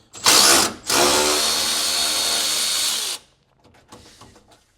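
A power tool or ratchet on a 10mm socket backs out radiator mounting bolts on a 1995 Ford F150: a short whirring burst, then a steady whir of about two seconds, followed by faint metallic clinks.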